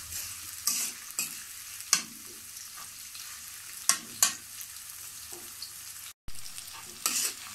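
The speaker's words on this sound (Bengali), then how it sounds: "পেঁয়াজটা আমি এখন বাদামি করে ভেজে নিব।" Onions frying in a pan on the way to browning while being stirred for a beef and cabbage dish, giving a low steady sizzle broken by several sharp scraping stir strokes and one brief dropout.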